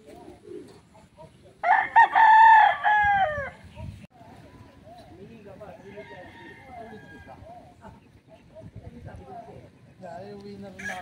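Roosters and chickens on a farm in the Philippines, with one loud crow rising near the start, then quieter clucks and bird calls. Voices talk over them.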